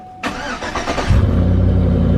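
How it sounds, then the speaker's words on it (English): A truck engine cranks and catches, then settles into a loud, steady idle right up close, with no talk over it. "just start the truck for a second"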